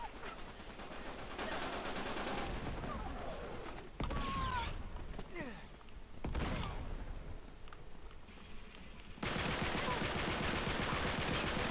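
Gunfire rings out in an Uncharted 3 team objective multiplayer match, with repeated rapid bursts and single shots through most of the stretch. Mechanical creaks and clatter mix in between the volleys.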